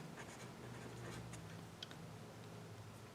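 A marker writes on paper in short, faint scratching strokes, quiet and close, with small taps between them and no talking.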